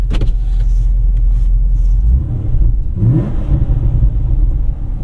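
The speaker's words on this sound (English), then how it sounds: "the car shakes a lot more when I rev the gas when I'm stationary" A Chevy SS V8 with long-tube headers and X-pipe revs up loudly from idle while stationary, a deep rumbling roar that rises and falls, with a whirring window motor early on.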